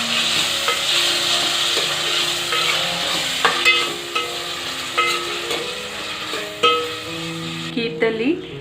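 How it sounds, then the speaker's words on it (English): Tomatoes frying for tomato rice are stirred in a pan, with steady sizzling and several sharp spoon scrapes and knocks against the metal over background music, and a quieter patch near the end. "Give it a mix."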